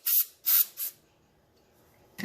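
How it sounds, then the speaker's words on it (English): Three short, close hissing bursts of aerosol brake cleaner spray, then a pause and a final quick spritz. "I just used the brake spray to clean it out."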